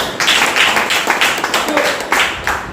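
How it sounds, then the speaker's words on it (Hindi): People seated at a direct-selling business presentation clap for themselves in uneven bursts of close, sharp hand claps, with some voices mixed in. "मैं चाहता हूं अपना स्वागत अपना तालियों से खुद करें"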